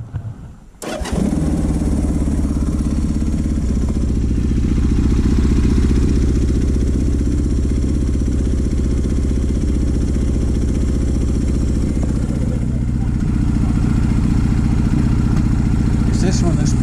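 A motorcycle engine with the air cleaner on starts and then idles loudly and steadily, with slight popping from the left side, heard close up with a low, rumbling, continuous drone.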